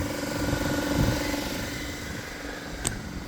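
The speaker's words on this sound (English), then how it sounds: "I've got my compressor out there" An air compressor runs steadily in the background with a low, even mechanical drone and faint rattle, joined by a single sharp tick near the end.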